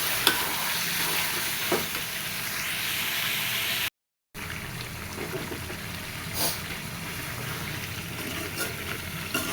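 Potatoes and liver being stir-fried in a pan, with a continuous close sizzle and occasional soft scraping strokes; a brief dropout breaks the sound partway through.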